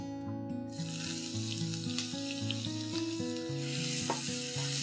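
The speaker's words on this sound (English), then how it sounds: "now once this coconut oil is nice and hot, I'm going to add 3 medium onions," Finely chopped onions sizzle and fry in hot coconut oil in a pan for a spicy potato onion curry, a loud continuous crackle with stirring clatter and a steady tonal hum underneath, no talking.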